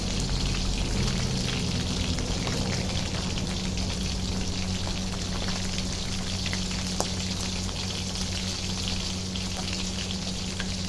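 Marinated food frying in an uncovered pan, a loud, continuous crackling sizzle that fills the whole stretch, close up and steady, with no speech.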